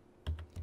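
Keystrokes on a computer keyboard while Java code is typed, a few quick, fairly close taps in a short burst with no talking.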